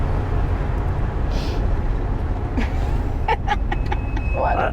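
A 1969 Dodge Polara 440 CHP police car drives hard, its engine and road rumble loud and steady throughout, with a few brief higher squeaks or clatters near the end.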